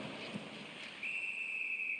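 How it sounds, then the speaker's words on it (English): A referee's whistle in an NHL 25 hockey video game stopping play, a single sustained shrill blast starting midway and held to the end over steady arena crowd noise. "There's the whistle stopping the play"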